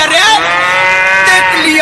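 A buffalo lets out one long, loud, close-up moo that holds a steady, drawn-out tone and fades at the end, with no voices.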